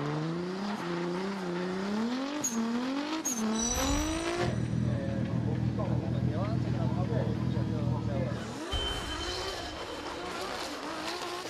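A 600 brake horsepower Hyundai Genesis drift car at the FIA Intercontinental Drifting Cup roars and revs hard, its engine pitch climbing and dropping, with a sustained loud tire-smoking drift passage in the middle, all under continuous commentary.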